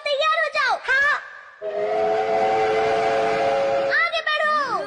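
A cartoon train from a Doraemon episode sounds a long, loud, steady whistle that holds for a couple of seconds, with animated voices speaking just before and after it.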